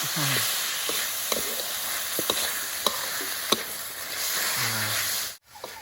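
Trat-style spicy eel stir-fried with green peppercorns and torn kaffir lime leaves sizzles steadily in a hot pan, close and loud, with scattered clicks and scrapes of stirring throughout.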